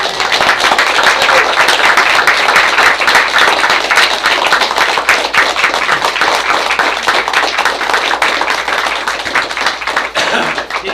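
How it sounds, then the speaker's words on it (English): Audience applause at a school board meeting: a dense, steady round of clapping from a crowd, loud and sustained for the whole stretch, tapering slightly at the end. "We can get an applause for Dee Dee."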